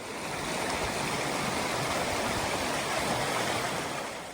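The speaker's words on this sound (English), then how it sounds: "it's really nice having running water right next to you" Stream water runs steadily beside a Pacific Crest Trail path near Mission Creek, a close, constant broadband rush and babble that stays even throughout with no voices.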